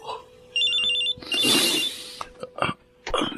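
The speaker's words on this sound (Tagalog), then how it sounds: "Ang cellphone ko." A cellphone rings with a high, repeating electronic trill in short pulses, close and clear, overlapped by a burst of breathy noise and a few short knocks.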